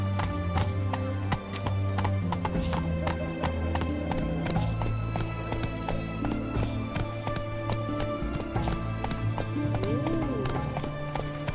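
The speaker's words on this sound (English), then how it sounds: "Run, Roach. Take it easy" Quick, rhythmic hoofbeats of a galloping horse in the Witcher III video game pound on steadily, close and loud, with an occasional snort, under music and a voice.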